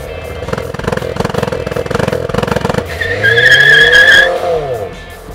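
A Renault Clio IV RS makes a launch control start. The engine first burbles at high revs, then the tires squeal loudly and the car pulls away with a rising engine note, close by.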